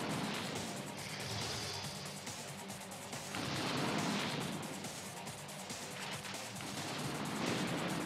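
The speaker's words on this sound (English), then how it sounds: "You'd think someone would notice all the fireworks up here." Fireworks in the PlayStation game Spider-Man 2: Enter Electro crackle and boom in repeated rolling bursts, fairly loud and continuous, with no talk over them.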